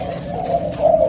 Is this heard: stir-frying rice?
no